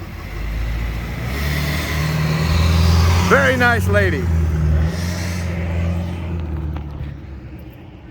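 A brand-new 2023 Ford F450 Dually 4x4 on 37-inch tires idles close by with a deep, steady low rumble. There is a brief hiss partway through, and a person speaks over the engine.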